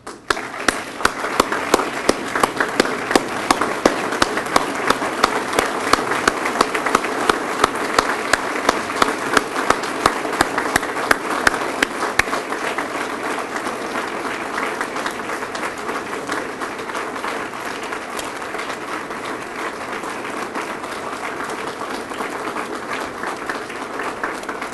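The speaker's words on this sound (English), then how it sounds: "I'd like to give them a standing applause" A college convocation audience rises in standing applause, a loud, dense wash of clapping with sharp individual claps standing out early, then settling into a steady, even roar that holds for the full stretch.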